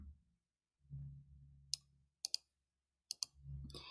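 Computer mouse clicks come in close pairs while a font is changed in a video editor, sharp and crisp against a quiet low hum, with no talk.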